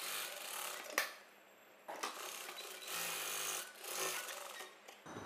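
A sewing machine stitches the second front piece of a blouse in bursts of steady mechanical whirring, stopping briefly around the second mark and then running again close and clear.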